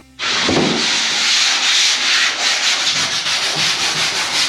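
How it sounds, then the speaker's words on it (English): Continuous abrasive sanding of a filled wall, a harsh rasping hiss with a brief knock at the start, steady and close throughout. "What we're doing is we're sanding it all down, all the way."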